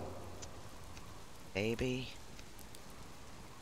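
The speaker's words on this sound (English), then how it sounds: "Maybe it'll stop raining." Steady rain falls on a remote subsistence shack, a constant close hiss throughout, briefly overlaid by a man's short spoken word.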